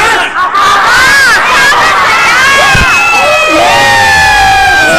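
A crowd of children and adults at a summer gathering yell a chant together in one loud burst, then break into excited cheering and scattered whoops, close and energetic.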